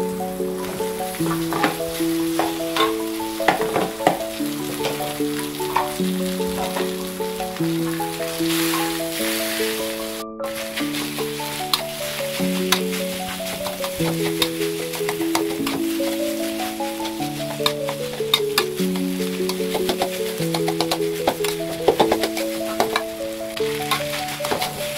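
Overnight cold rice fries in a hot pan for fried rice, a loud, steady sizzle with frequent scraping and stirring clatter. Music plays underneath throughout.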